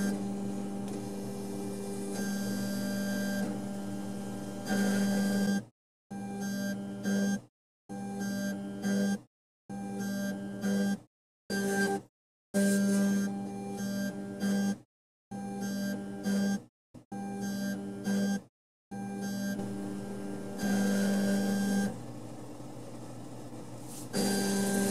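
A Chinese K40 laser engraver cuts 8 mm basswood, making a steady electrical hum and whine from its fans and tube that repeatedly cuts out and resumes in short bursts as passes run.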